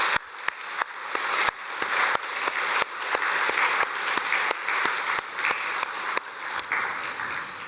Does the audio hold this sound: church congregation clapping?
yes